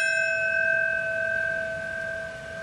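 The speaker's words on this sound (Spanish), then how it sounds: "La campana ha marcado los minutos de silencio en el momento de cada uno de los" Memorial bell tolling in New York at the 9/11 commemoration, one loud ringing strike with sustained clear tones that slowly fade across the whole stretch, no talking.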